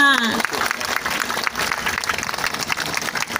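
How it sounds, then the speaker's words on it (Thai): Loud applause greeting a group of runners at a running event in Chanthaburi, a dense burst of clapping that starts right after a brief voice and continues strongly. "ขอเสียงปรบมือดัง ๆ ต้อนรับคณะนักวิ่งด้วยค่ะ"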